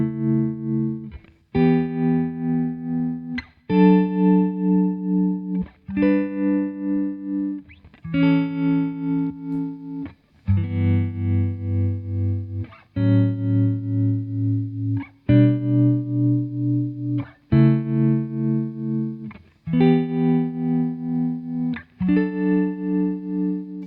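Guitar through a Boss TR-2 tremolo pedal with the waveform set near sawtooth, sustained chords pulsing rhythmically in sharp, steady swells, each chord repeating the throb for a few seconds before the next is struck.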